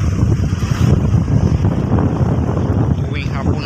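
Strong southwest monsoon (habagat) wind gusting steadily outdoors, a loud continuous roar with buffeting across the microphone throughout.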